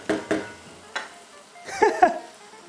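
Soy sauce hits a hot pan of mapo tofu, giving a few sharp scraping stirs followed by a brief hissing sizzle that flares twice near the end, close and clear with no talking.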